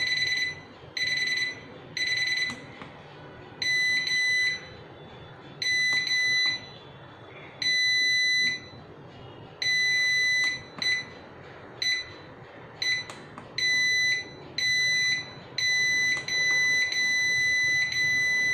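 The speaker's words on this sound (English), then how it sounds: "The alarm will sound, and you can press the minute button to change between the 8 types" A digital alarm clock beeps in repeated high-pitched bursts, switching between different beep patterns and rhythms, with short pauses between them.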